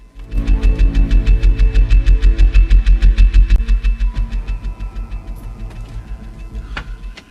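Aldo's motorcycle engine runs in a radio drama, chugging loudly in rapid, even pulses that slow and fade toward the end. No one speaks over it.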